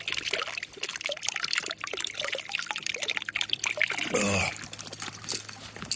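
Water trickles steadily from an outdoor drinking fountain on a pedestal along a mountain trail, a continuous close splashing flow with a brief louder gush near the end.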